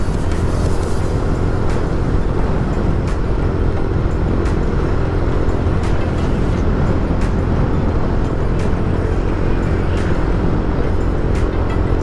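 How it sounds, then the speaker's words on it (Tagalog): Busy road traffic of many vehicles, a steady dense roar of engines and tyres with occasional passing surges, continuous and fairly loud with no talk. "dami ng sasakyan"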